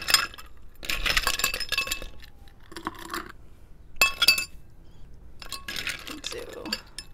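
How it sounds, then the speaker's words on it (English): Ice cubes clink and rattle into a cocktail glass while a Siam Sunray, a Thai cocktail, is mixed, in several bursts of close glassy clinks with brief pauses between. "And then I'm gonna put some ice in."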